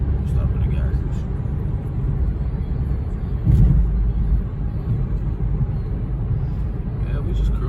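Car driving on the road, a steady low rumble of engine and tire noise heard from inside the car, continuous and fairly loud, with one brief bump partway through.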